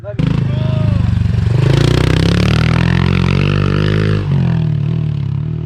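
A Honda CRF110 dirt bike engine revs loudly and steadily up close, its deep droning tone rising and holding for several seconds with a brief dip near the end; a voice talks over it.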